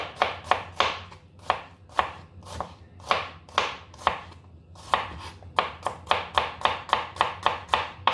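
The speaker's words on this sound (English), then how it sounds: "the same thing you do for your shallots. Cut it into half, and then I'll slice it this way." A knife chops shallots on a board in a steady run of crisp, evenly spaced thwacks, about two per second, loud and close, with a brief pause midway.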